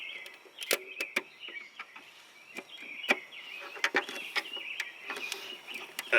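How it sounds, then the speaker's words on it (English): Plastic lens of a 2G tail light cracking and popping as it separates from its housing, a series of sharp, thin snaps and creaks at irregular intervals, close up, with no talk. "you should be able to see and hopefully hear the lens fully starting to separate."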